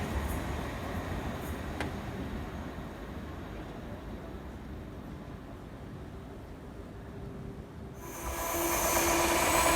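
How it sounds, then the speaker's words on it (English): Low rumbling roar of a Class 350 electric passenger train passing on the West Coast Main Line, steady and close, swelling into a louder bright rushing hiss near the end. "Class 350 passes on the up slow."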